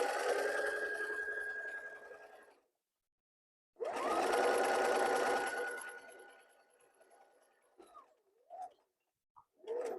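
A sewing machine runs along a seam of a flannel baby blanket in two loud, steady bursts separated by a pause, followed by a few brief faint knocks and rustles.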